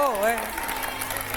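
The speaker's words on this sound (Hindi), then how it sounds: "तालियां बज गई लेकिन जवाब रह गया" An audience at a public gathering with a spiritual teacher claps continuously in a dense rattle, heard under a voice that speaks over the applause at the start.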